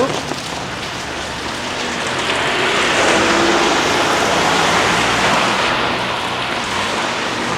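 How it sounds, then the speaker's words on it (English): Steady rain pours outdoors in a town along Portugal's N2 road, a constant close hiss that swells slightly midway and persists throughout without a break. "Apart from the rain."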